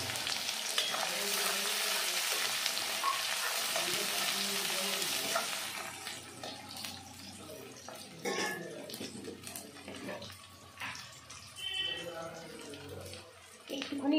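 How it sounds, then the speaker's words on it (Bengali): Chopped onions fry in a pan with a pinch of salt and turmeric, a loud continuous sizzle for several seconds, then quieter stirring, scraping and light clinks of the utensil against the pan. "একটুখানি লবণ, 1 চিমটি হলুদ গুঁড়ো দিয়ে আমি ভালো করে পেঁয়াজটা ভেজে নেব"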